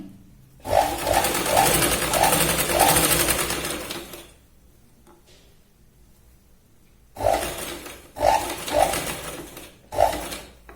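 A sewing machine stitches the side seam of a Punjabi dress cut from a sari, running in loud bursts of rapid whirring, stopping for a few seconds of near silence, then starting again in several shorter runs.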